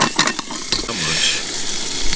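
Zucchini sizzling steadily in olive oil in a hot pan, with a few clicks and stirring clatters at the start, then a constant crackling fry.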